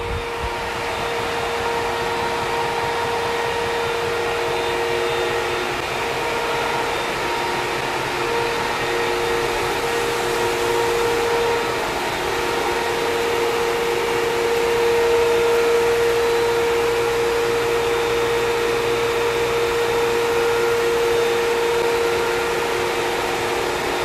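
A vacuum pump in a maple sap line pump house gives a continuous, loud motor whine, droning steadily from start to finish with a constant tonal hum and no pauses.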